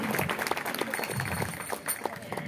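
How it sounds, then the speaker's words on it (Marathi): Applause from the audience at a Ram Mandir devotional music program fills the space as a steady, dense wash of clapping that continues throughout, with some crowd voices mixed in. "टाळ्यांचा आवाज"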